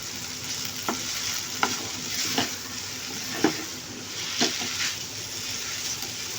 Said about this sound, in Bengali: এখন নুডলসটাকে আমি ডিম মশলার সাথে ভালো করে মিক্সড করে নিচ্ছি।